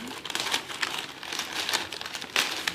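Plastic packaging wrap around a lot of liquid matte lipsticks is cut open and crinkled, giving close, continuous crackling with sharper bursts throughout.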